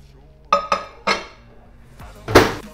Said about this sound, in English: just place it in the microwave.